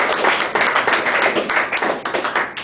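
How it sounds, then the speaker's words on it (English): Applause from a debate audience, a dense wash of many hands clapping at steady loudness for a few seconds, with no voices over it. "I believe they deserve a round of applause"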